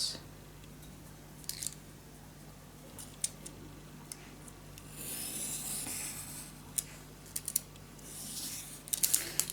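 A blade cuts along a ruler through paper for a wildflower mini album, with quiet, close rasping and snipping strokes and a few sharp ticks against a steady low hum.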